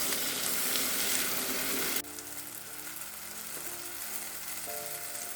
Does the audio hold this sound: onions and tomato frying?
yes